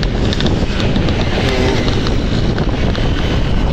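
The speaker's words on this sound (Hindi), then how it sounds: "बड़ा शोर है यार इस बाइक का" Loud, continuous roar of a motorbike ride through Lahore, dense broadband engine and wind rush at an even level, steady throughout with no voices.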